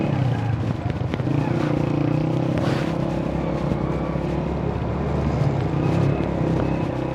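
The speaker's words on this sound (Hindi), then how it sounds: "अभी ना मेरी बाइक फंस गई" A motorcycle engine stuck in thick mud on a badly broken trail, revving with steady close rumble and clatter throughout.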